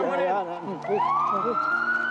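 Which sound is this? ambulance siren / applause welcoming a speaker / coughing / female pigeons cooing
ambulance siren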